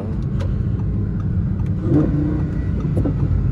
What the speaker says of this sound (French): Donc je reste toujours dans les tours, histoire d'entendre le moteur.